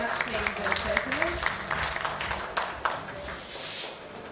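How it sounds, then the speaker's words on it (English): A big round of applause from the audience at an industry conference presentation, sustained clapping with overlapping talk and cheering that tapers off at the end. "Can you please give him a big round of applause?"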